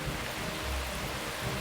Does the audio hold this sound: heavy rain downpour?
yes